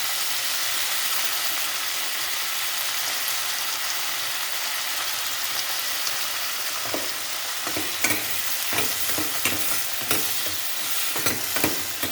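Tomatoes and onions sauté in a pan for sambar, a loud, dense hiss of frying that continues throughout, joined halfway by rhythmic scraping stir strokes, with no talk.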